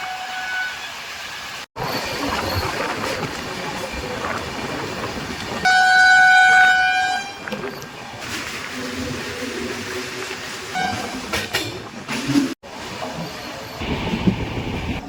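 The 22897 Kandari Express running at speed between Howrah and Digha, heard from inside a general coach: a loud continuous rumble of wheels and car rattle, a sharp horn blast near the middle, and faint voices now and then.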